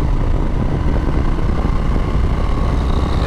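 A 2022 Harley-Davidson Low Rider S engine roars loud and close throughout a ride, a dense, rumbling exhaust note with rushing wind and no speech.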